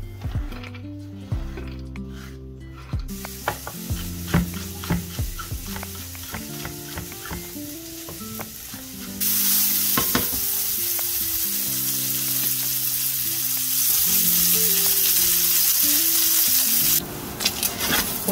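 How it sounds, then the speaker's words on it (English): Large chunks of bacon render in a hot pan, first quiet scattered clinks and utensil taps, then a loud continuous sizzle and crackle of frying fat that swells further near the end. "Okay, just gonna render this bacon."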